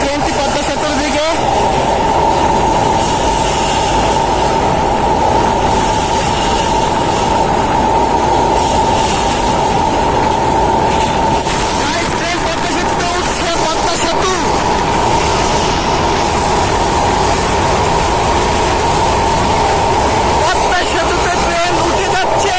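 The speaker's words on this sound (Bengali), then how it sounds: "এখন এগিয়ে চলেছে ট্রেনটি পদ্মা সেতুর দিকে" A passenger train travels toward the Padma Bridge, and its steady rumble and wheel noise fill the ride with a constant hum. A narrator talks over it for much of the time.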